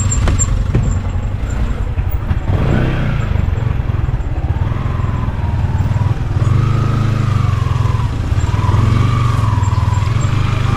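A new manual-clutch motorcycle being ridden on an outing, its engine droning steadily and loudly throughout with low rumble and shifting pitch as it revs, no talk over it.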